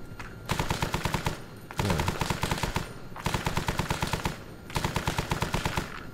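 Helicopter door gunners in Arma 3 fire machine guns in long, rapid bursts separated by short pauses, loud and close; a single brief word is spoken.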